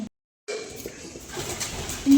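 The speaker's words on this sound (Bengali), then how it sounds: "কত পায়রা কত পায়রা" Pigeons at an ashram coo softly after a brief silence, a low murmur from nearby birds mixed with outdoor ambience and a voice speaking over it.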